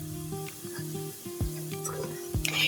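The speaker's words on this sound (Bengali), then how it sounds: "এরকম ঘন ঘন নেড়ে ছেড়ে কিন্তু মিষ্টিগুলি হচ্ছে ভেজে নিব।" Small sweets made from flour fry in oil and are stirred often, giving a soft sizzle broken by repeated spoon taps and scrapes in a short, close burst.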